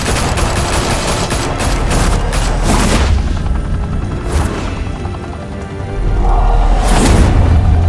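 Sustained gunfire in the Batman Telltale Series game, loud rattling volleys with occasional heavy booms and a helicopter-like drone underneath, continuing for several seconds.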